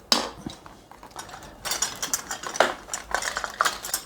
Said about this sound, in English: I'm going to take my spoon and I'm going to start putting dollops of meringue on it